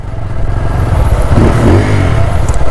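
A motorcycle engine revs steadily and loudly on a night ride along the beachfront in Vizag, the mid-range roar swelling slightly partway through with no talk over it.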